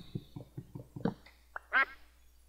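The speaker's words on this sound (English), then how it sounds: "Quack!" In the video game Minecraft, a rapid series of soft quacks repeats about six times in a steady rhythm, ending in a louder honking call, fairly close and with no talk over it.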